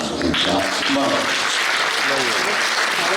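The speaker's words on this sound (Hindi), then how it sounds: "सब खड़े होकर के तालियां बजा करके।" Audience applause and a standing ovation at the Braj Kala Kendra Holi festival event in 2017; dense, steady clapping fills the room while someone speaks briefly over it at the start.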